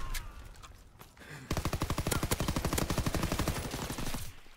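Rapid automatic gunfire from Call of Duty WW2, a dense burst of loud, evenly spaced shots lasting about three seconds, preceded by a few scattered single shots and game ambience.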